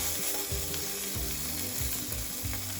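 Spiced peri peri chicken wings sizzle in a hot pan with a dense, steady crackling hiss, close and loud, with faint scraping and pops running through it.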